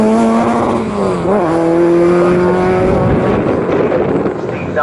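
Classic Thunder and Blue Oval saloon race cars at Snetterton passing close and loud, engines howling with pitch sweeping up then dropping as they go by, a roaring wash of noise following, with a commentator talking over it.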